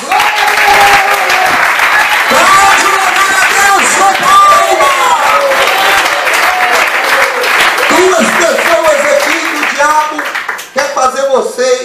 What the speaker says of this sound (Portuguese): Pode louvar a Deus com palmas.